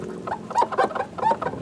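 A few high, rubbery squeaks in quick succession, like a cloth or hand rubbing a clean surface, close and fairly clear.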